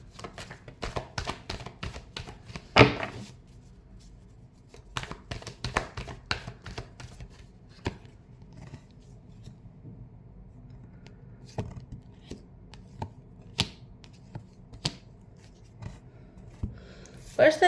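A deck of tarot cards being shuffled by hand makes bursts of crisp riffling and slapping, some loud and some quiet, separated by softer rustles and pauses.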